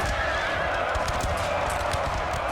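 Horses neigh amid a cavalry charge into infantry squares in Napoleon Total War, a dense, loud battle roar with whinnies and hoof thuds blended into constant noise.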